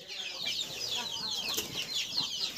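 A pen crowded with several hundred chickens and chicks, lit and kept indoors for the night, gives off a faint, continuous chorus of high chirps and soft clucks.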